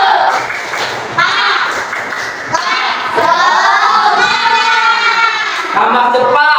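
Children in a classroom clap out the rhythmic 'tepuk semangat' chant together, their claps mixing with chanting young voices, thumps and crowd noise, loud and close throughout.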